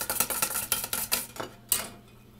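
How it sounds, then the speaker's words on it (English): Chopsticks whisk takoyaki batter of flour and water in a bowl, producing quick rhythmic clinking taps against the bowl, about a dozen close strokes that slow and fade. "We're going to whip it up with our chopsticks"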